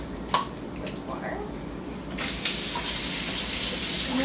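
Tap water running into a sink while EEG syringes are rinsed clean, a few faint clinks first, then the flow surging to a loud, steady gush that continues to the end.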